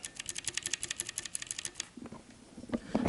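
Clicky mechanical keyboard switches typed in quick succession, sharp close clicks meant to imitate a typewriter, the rapid run thinning out halfway through into a few scattered softer knocks and handling sounds.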